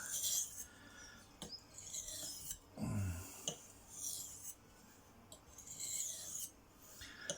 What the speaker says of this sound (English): all I'm doing now is getting rid of as much as I can of that little burr that had formed on both sides